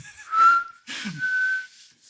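A person whistles a few short clear notes, close and alone, with breathy pauses between the tones.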